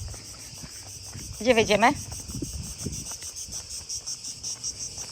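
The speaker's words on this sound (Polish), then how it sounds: "To są cykady, prawda?" Cicadas in Athens keep up a steady, shrill, high-pitched drone throughout, with a short burst of speech in the middle.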